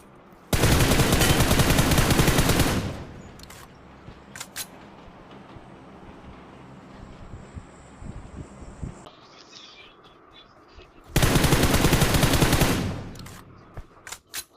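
Loud bursts of automatic gunfire from a shooting video game, one long burst at the start and another near the end, with a quieter stretch of scattered faint shots and game noise between them.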